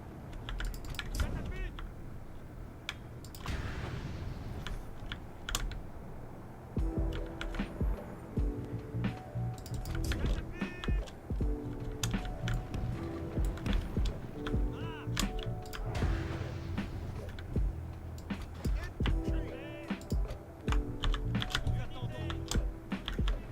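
Rapid typing on a computer keyboard during a live strategy-game stream, quick uneven bursts of key clicks close to the microphone, running steadily for over twenty seconds with a faint hum behind.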